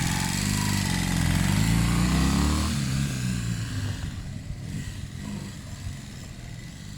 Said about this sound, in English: Now this is an actual up and running bike.